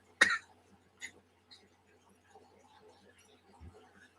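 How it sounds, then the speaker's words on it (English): A few faint, dry coughs and throat sounds, one sharp burst then softer ones spaced apart, with quiet breathing in a hushed room. "every time I cough and I breathe back in,"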